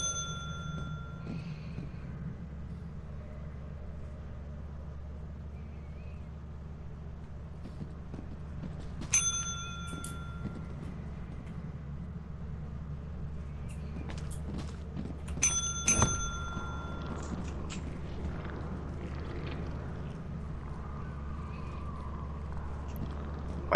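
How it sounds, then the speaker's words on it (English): Desk bell dinged in the horror game Lethal Company: a few sharp, ringing chimes at separate moments, each with a bright metallic tone that fades, over a low steady hum and scattered faint footsteps. "And then we want to stay quiet after we ding the bell."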